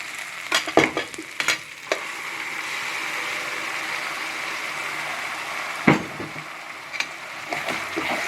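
Coconut-fennel paste drops into a hot pan for a fish curry, giving a few sharp sizzling bursts and stirring scrapes at the start and again near the end, with a steady frying hiss between them and no talk.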